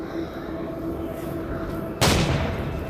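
A single loud, sharp gunshot blast erupts near the end of a Roblox shooting game, cutting through a steady hum of background game noise and trailing off in a brief rumbling tail.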